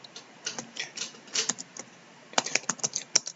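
Rapid, close typing on a computer keyboard entering text into comment boxes, steady bursts of crisp key clicks with a brief lull midway before a quicker flurry.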